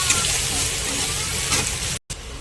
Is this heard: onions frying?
yes